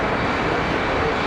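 An airplane takes off from runway 23 left at Raleigh-Durham International Airport on a windy day, its engine roar steady, loud and continuous, with no voices over it.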